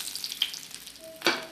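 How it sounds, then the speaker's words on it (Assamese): A fish head frying in oil in a wok for an Assamese fish head curry sizzles quietly close by, with brief crackles and a sharper burst of spitting near the end. "আমাৰ মাছৰ মাথাটো ফ্ৰাই হৈ গৈছে।"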